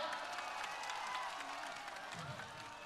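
Applause for Mithun Chakraborty at a political rally, a steady wash of clapping and crowd noise holding throughout, slightly distant and fading a little toward the end.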